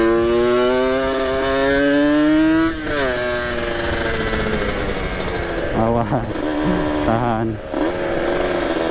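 A Kawasaki Ninja RR two-stroke motorcycle engine revs while riding on a busy road, its whining note rising, dropping and climbing again in gear changes, loud and close with a brief word spoken over it.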